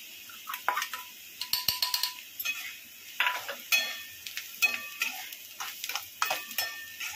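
Dal and onion frying in a pan, village style, with a soft sizzle under repeated clinks and scrapes of a spatula stirring, close and fairly busy throughout.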